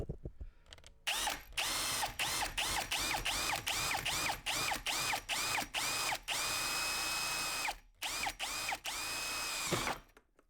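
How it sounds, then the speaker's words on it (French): A power drill bores a small hole in a converted camper van during a heater installation, running in close, loud, stop-start bursts with short pauses and a few longer steady runs. "Et on va percer un petit trou."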